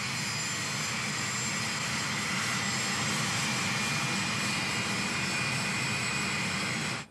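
A Pan Am passenger jet taxis with its engines running, giving a steady, loud roar laced with a high whine that holds evenly throughout and cuts off at the very end, with no voices.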